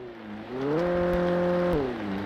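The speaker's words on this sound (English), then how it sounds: "that sounds like it would have blown the engine" A car engine in the Alan Wake video game strains and revs, its drone climbing in pitch, holding high and strained, then easing down, loud and continuous with no talking.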